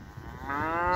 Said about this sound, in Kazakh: 8 бас сиырлар.